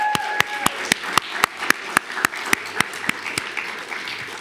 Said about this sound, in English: at the end we can clap for them